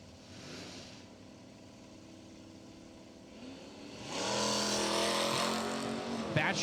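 A 1965 Chevelle and a 1971 Vega launch off the line at a drag strip, engines rising from a low idle rumble to a loud, roaring acceleration. A commentator talks over the cars.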